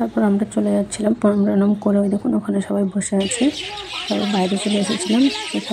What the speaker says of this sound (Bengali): আওয়াজটা শুধু শুনুন, এত পাখিগুলো ডাকছে